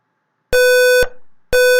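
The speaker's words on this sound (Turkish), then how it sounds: "Ve gün döndüğünde alarm çalmaya başlıyor." Loud electronic alarm beeps from a DS1307 real-time clock circuit simulation, a half-second tone repeating twice with short gaps, harsh and buzzy, alone.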